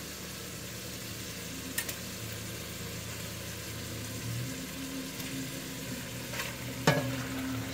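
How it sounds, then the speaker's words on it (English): Beef going into a hot pot for beef bourguignon, a steady sizzle and frying hiss with a few soft knocks and a louder clatter as the meat drops in, and no talk. "I'm going to start adding my beef to this pot."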